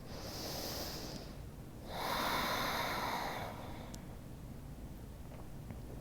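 Slow deep breathing during a restorative yoga shoulder stretch, with a long airy inhale and exhale close to the microphone over quiet room noise.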